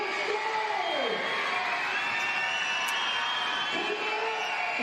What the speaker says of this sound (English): The crowd trying to get involved here at Red Energy Arena.